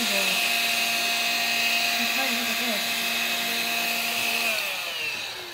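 A cordless stick vacuum, either a Dyson V11 or an Electrolux Ergorapido, runs with a steady high-pitched motor whine and airflow hiss, close and loud, its pitch wavering slightly before it fades near the end.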